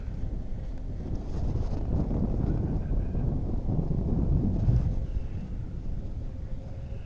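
Wind gusting hard across the microphone during a flight near a construction site, a continuous low rumbling roar that swells and eases over several seconds with no other sounds.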